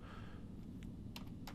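Computer keyboard typing during 3D modelling work in SketchUp: a few soft scattered clicks and key taps at close range over a steady background hum, with no talk.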